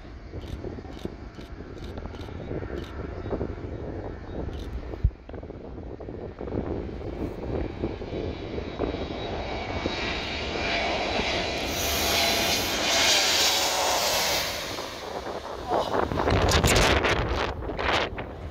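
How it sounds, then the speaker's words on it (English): An Airbus A321neo jet lands at Skiathos Airport in Greece on a very low approach to the short runway, its broadband roar swelling loud over wind buffeting before easing off. "This Airbus A321neo landing at Skiathos Airport in Greece"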